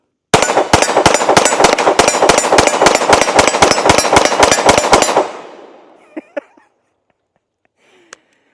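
A rapid string of about twenty close, loud pistol shots from a handgun fitted with a Radian Ramjet, firing Hydra Shock 124 +P rounds through a full magazine in roughly five seconds, followed by ringing echo and a few scattered metallic clinks.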